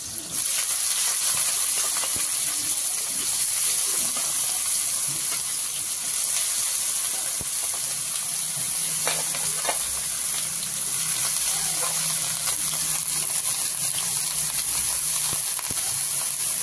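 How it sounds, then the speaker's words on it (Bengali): Eggplant frying in oil in a pan, a steady loud sizzle and hiss with occasional crackles and soft stirring scrapes, continuous and close, no talking. "বেগুনটা ভেজে নিচ্ছি"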